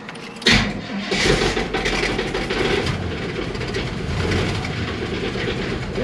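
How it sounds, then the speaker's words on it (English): An LS-swapped 1977 Chevy C10 cranks and catches, then runs at a rough, rumbling idle, moderately loud and close, with no talk over it. "So she fired right up with some fuel."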